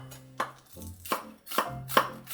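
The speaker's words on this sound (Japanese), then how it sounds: "ネギをカットする。" Green onions being chopped on a cutting board: four distinct knife thunks at roughly even intervals, close and moderately loud, with no talking.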